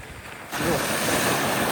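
Sea waves surge onto a windy shore where fishing nets are set, a quiet hiss suddenly swelling into a loud, continuous rushing wash with wind noise; no speech.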